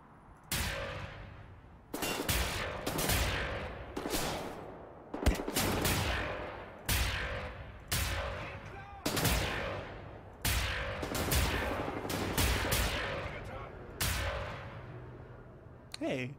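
A heavy gun firing in Wolfenstein: The New Order, loud repeated bursts of shots coming roughly every one to two seconds across the whole stretch, each with a booming tail.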